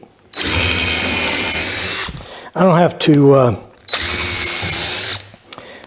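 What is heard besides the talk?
power drill pre-drilling holes in a wooden cleat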